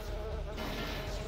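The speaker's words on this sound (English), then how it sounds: "Robot mosquitoes" Robot mosquito enemies in the game Daikatana give off a thin, steady insect-like buzz, faint and continuous with no talk over it.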